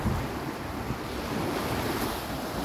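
Sea waves breaking on the shore, a continuous loud wash of surf mixed with wind buffeting the microphone, with no voices.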